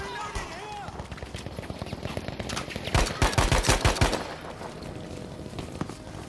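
Battlefield V machine gun fire: a rapid rhythmic burst of loud, close shots in the middle, with lighter distant firing before and after.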